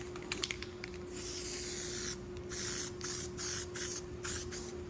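Undercoating sprayed from an aerosol can onto a Ford F-150, heard as a series of close hissing bursts of varying length separated by short pauses, with a faint steady tone beneath and no voices.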